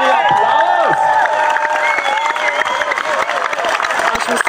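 Studio audience at a German school game show cheers and applauds as a student contestant is welcomed, a loud, dense crowd sound with whoops and shouting rising over steady clapping throughout.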